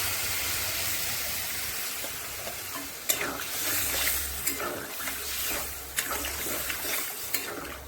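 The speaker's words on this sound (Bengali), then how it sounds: "মশলা কষানো হয়ে গেছে, এখন দিয়ে দেবো জল" Water poured into a pan of spiced fish masala sets off a loud sizzle and bubbling, with scraping stirs and a few sharp clinks of a spoon against the pan over about eight seconds.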